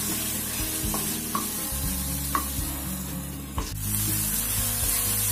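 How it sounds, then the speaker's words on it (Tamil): Chopped tomatoes sautéing in a kadai, a soft frying sizzle with a few light spoon taps and scrapes over a low steady background hum, no voices. "கட் பண்ணியிருக்கோம்ல அதையும் போட்டு வதக்கிக்கணும். இன்னும் கொஞ்சம் நல்லா வதங்கட்டும்."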